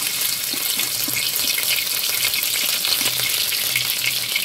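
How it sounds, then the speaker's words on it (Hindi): Green chillies fry in hot oil with a steady, close sizzle and crackle that runs the whole time, with a few light stirring knocks and no voices. "मिर्च तेल इतने अच्छे से हो चुका है कि मिर्च डलते ही अच्छे से भून जाएंगे।"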